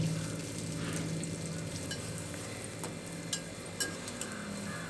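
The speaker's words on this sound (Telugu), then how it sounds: "ఆయిల్ హీట్ అయిన తర్వాత కొంచెం జీలకర్ర కరివేపాకు ఉల్లిపాయ ముక్కలు పచ్చిమిర్చి ముక్కలు వేసుకుని దోరగా వేయించుకోవాలి" Cumin seeds, curry leaves, chopped onion and green chilli pieces sizzle in hot oil, a steady close frying hiss with a few soft clinks and stirring taps, no voices.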